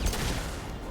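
Gunfire from a scoped gun in a first-person video game, a loud burst of shots at the very start that quickly decays into a fading rumble within a second.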